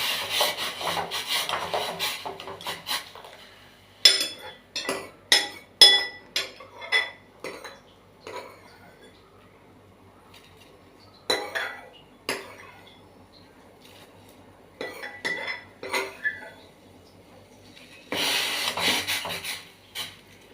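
A utensil stirs plantain milk sweet in a cooking pan, giving bursts of scraping, rubbing strokes against the metal, some quick and rhythmic, with quiet pauses between them.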